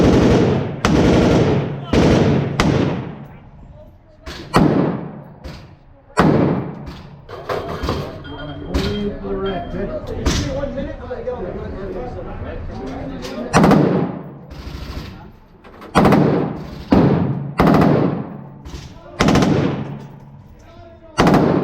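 Guns fire at an indoor shooting range in Las Vegas in loud, close bursts of rapid automatic shots and single booming reports, with people talking between and beneath the volleys.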